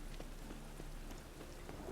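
Faint, steady rainfall patters continuously in The Witcher: Wild Hunt game world, a soft even wash of drops with no voices.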